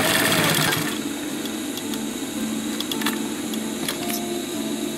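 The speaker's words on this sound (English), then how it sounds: "And sew it a few times to hold it in place." Sewing machine stitching a strap onto a DIY 30L backpack, a steady close mechanical whir with a louder burst at the start, then continuous running with faint clicks.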